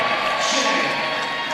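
Crowd at a college basketball game cheering after a dunk, a steady broad roar of voices held at an even level throughout.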